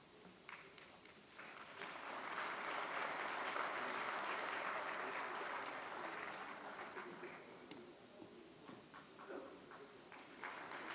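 Warm applause greets a law and justice minister at a formal event, dense clapping that swells and holds for several seconds, then thins into scattered claps, heard at a moderate distance.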